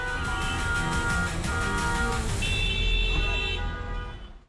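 Dense traffic roar in Surat, India, with car horns honking: several overlapping horn blasts and toots, one long high horn held near the end over the rumble.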